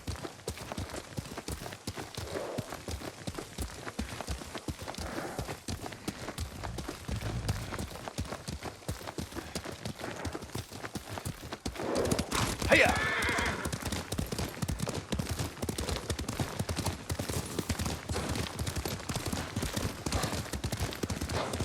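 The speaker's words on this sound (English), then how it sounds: "Lord Sakai taught me to ride a horse." Horse hooves clip-clopping in the samurai video game Ghost of Tsushima, a steady rhythmic gallop running throughout, joined by background game sounds and a brief louder burst midway.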